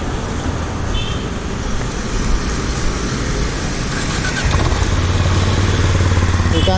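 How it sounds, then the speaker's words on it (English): Benelli Imperiale 400 motorcycle idling and running, a steady low exhaust rumble over road and traffic noise, growing fuller and louder in the last few seconds. "So we'll be looking out the exhaust note for this bike."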